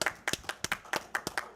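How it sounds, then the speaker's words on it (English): One person claps their hands for two young players at a junior memorial pool tournament: about a dozen sharp, close claps in an uneven, quick rhythm, with nothing else around them. "So I'm going to clap for both these young ladies."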